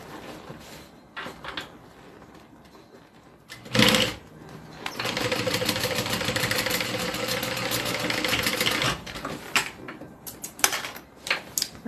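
A sewing machine stitches a bag seam in one long steady run of rapid, even needle rattle lasting several seconds, bracketed by brief clunks and handling sounds before and after, with no talking.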